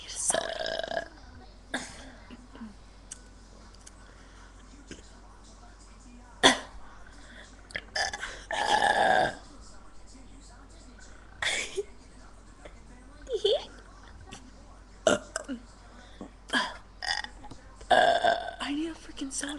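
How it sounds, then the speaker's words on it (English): Repeated loud burps in a friendly burping contest, several separate belches spaced across the stretch with short gaps, some long and drawn out, with brief bits of talk and laughter between them. "We're gonna have a burping contest."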